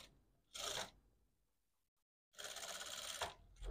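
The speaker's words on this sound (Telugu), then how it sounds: "ఇదే కుట్టు పైన డబల్ స్టిచ్ వేసుకోండి" An electric sewing machine runs a double stitch over an existing seam on a princess-cut blouse front panel, with a short whirring burst followed by a longer steady run after a brief pause.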